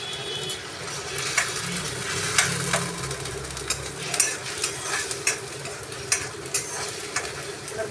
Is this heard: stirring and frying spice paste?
yes